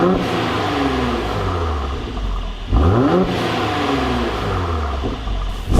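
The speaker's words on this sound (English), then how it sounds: "let's find out what the exhaust sounds like now before we get started." A stock-exhausted Mercedes-AMG C43 revs up with a deep, throaty burble, one sharp rev climbing and falling mid-way over a steady idle rumble, close and loud with no talk.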